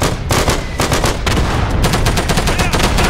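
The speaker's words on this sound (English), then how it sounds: "They're shooting at us." Loud, dense enemy gunfire crackles without pause in the World War II shooter Day of Infamy, rapid overlapping shots and bursts filling the scene, with faint voices barely present beneath.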